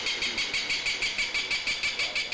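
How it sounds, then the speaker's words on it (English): Rapid, regular bursts of high, shrill recorded bird-of-prey calls repeat about five times a second, a steady electronic-sounding screech from loudspeakers at a train station, with no talking. "The birds of prey sounds being pumped out of these speakers"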